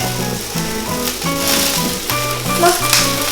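Peppers fry in a hot pan with a steady sizzle that runs throughout, accompanied by a melodic musical tune in the background.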